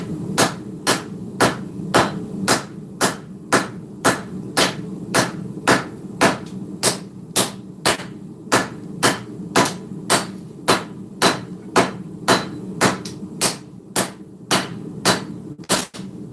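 Steady, evenly spaced hammer blows ring out on an anvil, about two per second for the whole stretch, as quarter-inch steel stock is forged into a Viking-style sword, loud and close with no talking.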